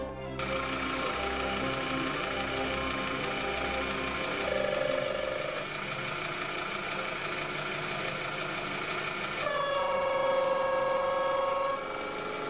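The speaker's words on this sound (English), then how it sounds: "The cutting pressure slowed down the lathe quite a bit, and the carbide insert seemed to have a lot of trouble cutting" A Proxxon lathe turns a hardened steel gear against a carbide insert, giving a loud, steady motor whine with harsh tonal cutting squeals that rise in two stretches as the load drags the machine down.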